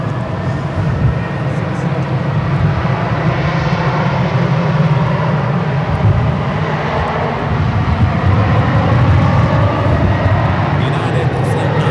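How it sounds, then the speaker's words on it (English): A United Boeing 777-200ER departing San Francisco for London Heathrow produces a loud, sustained, heavy engine roar with deep low rumble, steady throughout the takeoff run. "United Flight 901 heading to London Heathrow, 777 to 200 ER"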